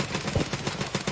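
A quick string of rapid gunshots in Escape From Tarkov, about eight closely spaced cracks in a steady automatic rhythm, loud and near, heard alone.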